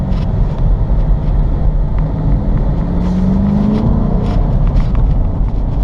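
Chrysler 300 SRT pulling in second gear under part throttle gives a continuous engine roar from inside the car, with a tone sweeping upward as it accelerates.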